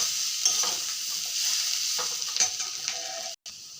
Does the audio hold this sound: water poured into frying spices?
yes